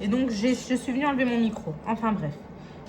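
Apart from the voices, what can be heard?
No everyday noises stand out.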